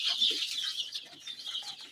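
Young brooding chicks cluck and peep at close range while pecking at their feeders indoors, a busy, steady chatter of many birds with no talk over it.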